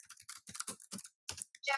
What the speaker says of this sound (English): So I am going to start typing about Thomas Jefferson.